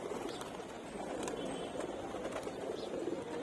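A male pigeon coos softly in a loft, with low, faint calls over a quiet room hum and no speech.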